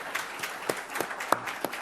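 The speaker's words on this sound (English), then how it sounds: "give them a round of applause" Sparse, fairly quiet clapping from a small group at a school board meeting honouring staff members, with a few louder individual claps standing out.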